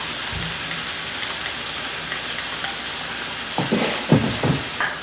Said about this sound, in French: Je vais venir mettre les oignons qu'on a déjà découpés.